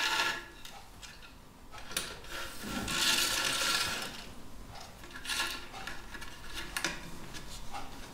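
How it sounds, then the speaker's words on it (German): Rattan cane drawn through the holes of a chair seat being rewoven, with a holding wedge, giving soft intermittent rubbing and rasping swishes that swell and fade in several pulls over a quiet workshop background. "Das Flechtrohr aus der Rattanpalme wird durchgezogen, mit einem Haltekeil festgemacht und über das nächste Loch wieder auf die andere Seite gezogen"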